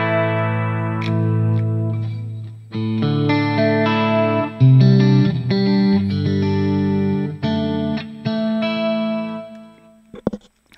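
A clean electric guitar through a Fractal Audio FM9 Turbo plays bright chords and single notes with a shimmering chorus, echoing delay and reverb tails, no talking.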